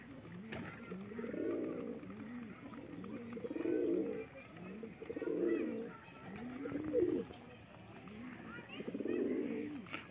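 Soft, repeated pigeon coos in a steady rhythm in a pigeon loft, several low throaty calls close by with quiet background noise between them.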